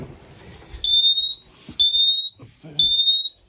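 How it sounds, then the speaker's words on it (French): Three loud, piercing electronic alarm beeps from the alarm system of a Nimbus 405 boat, each about half a second long, repeat at a steady pace with short gaps between them. "il est équipé du système d'alarme, comme vous pouvez le constater."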